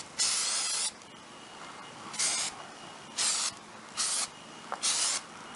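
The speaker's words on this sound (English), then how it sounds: "Got some brake cleaner here." Brake cleaner sprays onto the brake rotor of a 2005 Hyundai Santa Fe 2WD in five close, hissing bursts of varying length. The first burst is the longest, and brief pauses separate the others.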